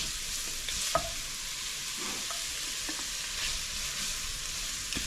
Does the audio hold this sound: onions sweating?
yes